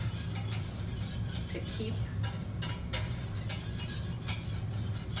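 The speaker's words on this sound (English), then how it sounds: "Gotta stir, stir, stir." A whisk or spoon stirring a white roux for béchamel in a pan, with soft rhythmic scraping and light metallic ticks under a low background hum and a brief spoken word.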